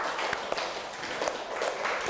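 A class of students claps hands in a counted rhythm, scattered crisp group claps repeating over steady room noise, fairly soft and close.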